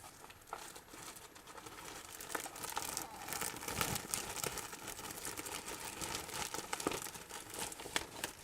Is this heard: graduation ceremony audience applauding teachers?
no